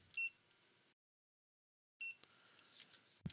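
ANENG 620A multimeter emitting short, faint electronic beeps, two tonal chirps separated by a pause of silence, with quiet background clicks.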